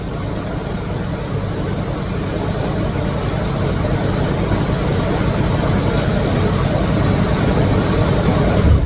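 A steady, loud, low engine drone from an old, rusty independent garage motor running continuously without change, close by and with no talk.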